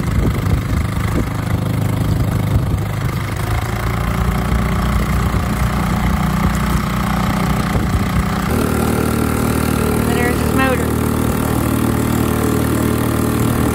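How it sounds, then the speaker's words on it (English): A small air-cooled outboard motor on a canoe drones steadily throughout, loud and close, with a slight shift in pitch partway through as it keeps running. "it does get a little loud at, at higher speeds for being such a small motor"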